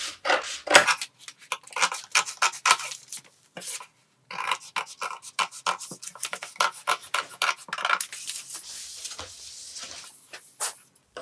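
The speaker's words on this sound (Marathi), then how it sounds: "आता कटिंग करताना सुरुवातीला जे बाहेरचे आकार आहेत ते पहिल्यांदा कट करायचे" Scissors cut a katori blouse pattern along its outer outline, giving a run of close, dry rasping snips and rubs in uneven bursts with brief pauses, fairly near and with no voices.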